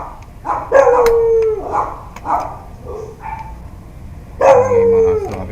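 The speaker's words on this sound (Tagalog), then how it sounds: "Okay, mga aso kapitbahay namin." Neighbourhood dogs howl and bark nearby in several drawn-out, wavering bursts separated by short pauses, with a final loud howl near the end.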